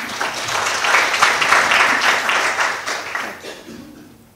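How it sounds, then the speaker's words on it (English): A conference audience applauds in a hall, a steady, dense wash of many hands clapping that swells, holds for a few seconds and then fades away, with no voices over it. "Violetta deserves a louder round of applause."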